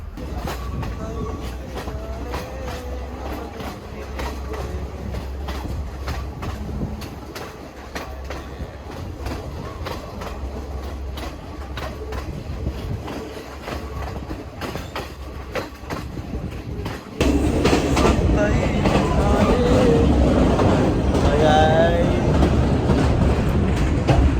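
A train pulling into Haliela station in Sri Lanka, wheels clacking and rumbling steadily with faint squeals, then a sudden louder burst of rushing noise near the end, close and continuous.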